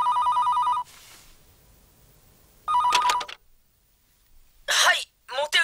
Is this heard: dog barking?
no